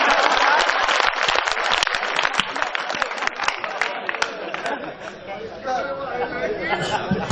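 Crowd applause at a Hindi poetry recital (kavi sammelan) in Ujjain, loud and thick at first, then thinning into scattered claps under a murmur of chatter and voices.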